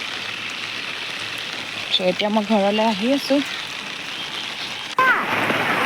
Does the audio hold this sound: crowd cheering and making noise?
no